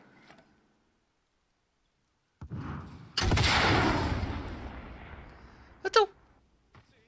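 A sudden loud burst of gunfire and a sustained blast erupt after near-silence in the video game Warzone, followed by a few sharp mechanical clanks.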